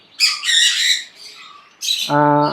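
Red-faced parrotfinches call from a cage with sharp, bright squawks and chirps in two close bursts, then a steadier harmonic call at the end, loud and near with no talking.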